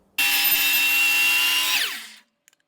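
A miter saw finishing a straight cut in baseboard: one loud, close burst of whining blade that holds steady for under two seconds, then spins down and fades to silence.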